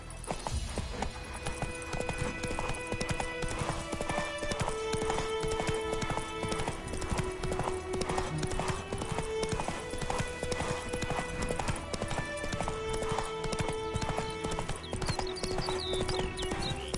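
Horse hooves galloping in the video game The Witcher 3: Wild Hunt, a fast continuous clip-clop rhythm running throughout beneath game music.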